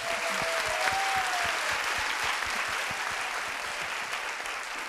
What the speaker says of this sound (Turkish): Bir fair play alkışı rica ediyorum.